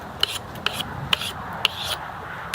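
Sandpaper rubs across the weathered wooden top of a bench, making close, rhythmic scratchy strokes with several sharp peaks, about five passes in quick succession.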